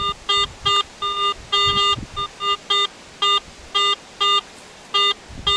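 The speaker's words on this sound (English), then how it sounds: "I've yet to have a detector pull up a higher tone on that" A Garrett AT Pro metal detector sounds over pull tabs with a series of short, clear electronic beeps in an irregular rhythm, loud and close with faint background noise.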